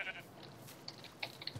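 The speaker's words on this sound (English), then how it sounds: "here's another pink sheep!" Quiet Minecraft sheep bleats, a couple of short nasal calls from pink sheep against faint game background noise.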